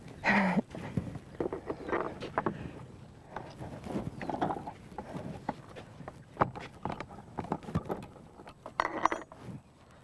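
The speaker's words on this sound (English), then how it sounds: "Now, just watch the horse" A wild horse shifts and steps around a pen, giving scattered soft hoof thuds and clip-clops with faint rattles over a quiet background, fairly close and irregular.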